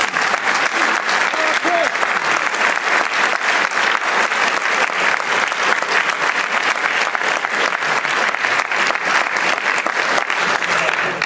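Loud, sustained audience applause after debate questions, a dense wash of clapping hands that carries on steadily for about eleven seconds.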